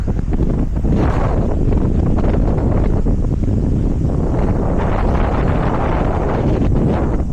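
Strong gusting wind roars over the microphone while cycling the gravel rail trail from Wellington to Featherston, a loud, constant rumbling buffet with no letup and no voices.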